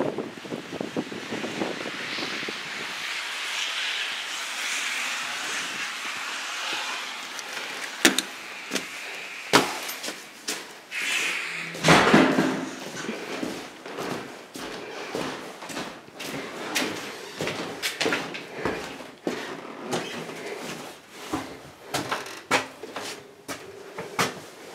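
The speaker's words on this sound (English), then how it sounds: "Entering front door." A house front door opens and closes as someone enters, with soft clunks and latch clicks scattered over a steady windy outdoor hiss.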